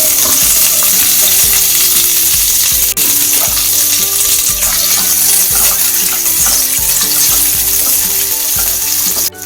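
Ivy gourd sizzles steadily in hot coconut oil in a pan, with a close, continuous fry. Stirring scrapes and clinks sound throughout, and no one speaks.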